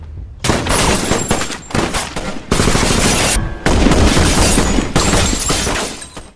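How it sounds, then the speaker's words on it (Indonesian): Heavy gunfire erupts in a film shootout with cartel members, loud sustained bursts of automatic fire with shattering impacts, broken by a few brief pauses. "bahkan polisi pun mencoba menembak Cat."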